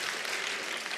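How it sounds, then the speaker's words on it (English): Audience applause fills a brief moment, an even, continuous wash of many hands clapping at moderate loudness with no voices on top. "Give a round of applause for all of them."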